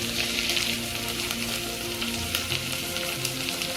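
Tomato bath masala, seasoned with turmeric and chili powder, sizzles and fries in a pan with a steady, close hiss, joined by occasional faint stirring scrapes and no talking.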